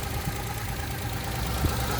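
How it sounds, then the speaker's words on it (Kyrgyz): A 2005 Daewoo Matiz with a 0.8-litre engine and manual gearbox idles close by, a quiet, even hum that stays steady throughout. "Мотордун иштеши аябай тынч"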